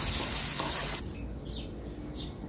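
Garlic and heavy cream sizzle loudly in a hot pan, the frying hiss dropping as the mix is stirred, followed by lighter bubbling and faint scraping.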